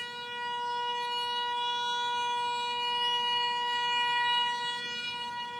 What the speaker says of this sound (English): Hear the voice of the shofar.